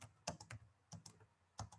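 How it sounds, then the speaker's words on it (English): Keys clatter on a computer keyboard in a few quick, soft bursts of typing, close and quiet with short pauses between strokes. "Now I'm typing in English."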